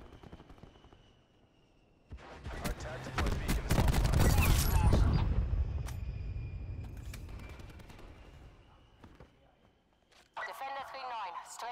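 In a video game, an aircraft strafing run fires a dense burst of rapid gunfire and rumbling impacts that swells and then fades, with a radio-style voice talking over it.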